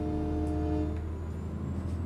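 A train rolls past in American Truck Simulator with a loud, steady low rumble and a sustained tonal hum, close and continuous throughout, with no one talking.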